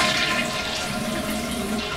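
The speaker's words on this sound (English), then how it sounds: "I'm going to flush the toilet here" A household toilet flushes with a steady, loud rush of draining water that lasts the whole stretch, close by and without talk.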